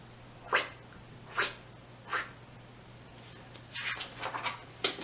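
A person imitates a rotating lawn sprinkler with soft, breathy hissing bursts, four or five evenly spaced pulses and then a quicker ticking flurry, faint over a low background hum.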